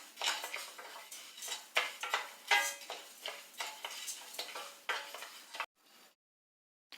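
Rice dry-roasted in a pan for a Porivilangai urundai snack, with a utensil stirring and scraping steadily in repeated metallic strokes alongside light crackling, close and continuous, then cutting off to silence near the end.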